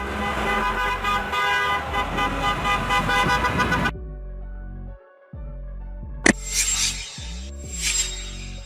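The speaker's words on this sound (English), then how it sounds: "A school bus is used to transport students from their homes to school and back." A school bus sounds a long, loud, steady horn blast, then the engine runs on low with a brief sharp knock and a few fainter, breathy bursts near the end.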